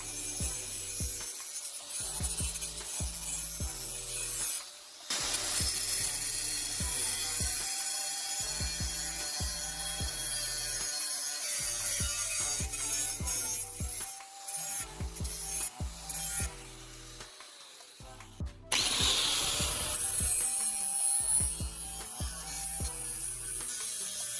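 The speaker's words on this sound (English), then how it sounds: "I'm carefully cutting these marked lines with an angle grinder, removing excess material." An angle grinder cuts metal along marked lines while shaping a digging tool, a loud, close, steady grinding rasp broken by short pauses, with a brief quiet gap near the end before grinding resumes.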